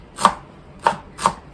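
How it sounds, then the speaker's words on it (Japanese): Three sharp knife chops mince fresh cilantro stems on a cutting board, spaced unevenly and close, with no talking. "もう茎ごとね、みじん切りにしちゃいましょう"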